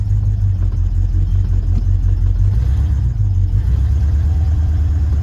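A square body Chevy truck pulls off with its engine rumbling loud and close, settling into a steady low drone with a couple of rising revs as it moves.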